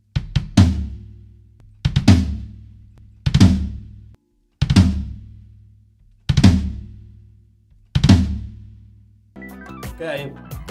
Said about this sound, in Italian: Con la cassa e con il timpano suona così.